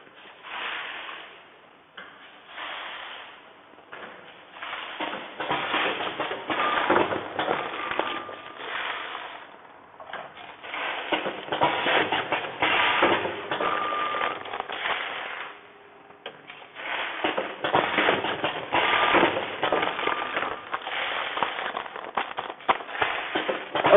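An ATM-320C automatic packing machine for coffee granule and sugar sachets runs with a dense, rattling clatter that swells and eases in cycles, with brief lulls between longer stretches of steady mechanical noise.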